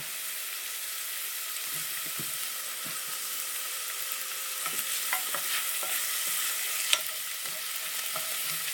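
Onion and garlic sauté in a hot pan for sweet and sour pork, giving a steady, close sizzle with occasional scrapes and light clinks of a utensil stirring.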